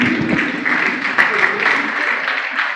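An audience at a district governor installation ceremony breaks into applause, a close, steady wash of clapping that holds level for a few seconds, with murmuring voices mixed in.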